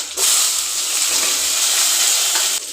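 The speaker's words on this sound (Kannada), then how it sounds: "ಈಗ ಆಯಿಲ್ ಹಾಕಿ ಬೆಳ್ಳುಳ್ಳಿ ಹಾಕಿದ್ದೀನಿ" A sudden loud burst of hissing sizzle as garlic hits hot oil, holding strong and steady for a couple of seconds before cutting off.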